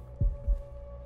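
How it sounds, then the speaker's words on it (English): A heartbeat in the video game Observer thumps twice in a low, muffled lub-dub, close and heavy over a steady electronic hum. "Heartbeat. It's not great."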